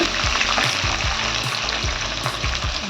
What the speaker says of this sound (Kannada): ಇವಾಗ ಈರುಳ್ಳಿ ಹಾಕೋಣ ಇದೊಂದು ಸ್ವಲ್ಪ ಬಾಡಿಸ್ಕೊಂಡು